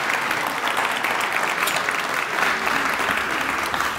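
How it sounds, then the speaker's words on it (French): Sustained applause from a full, in-person audience at the 2022 MTL Tech Awards ceremony, dense, even clapping that fills the room for the whole stretch. "on s'applaudit d'être ici en présentiel."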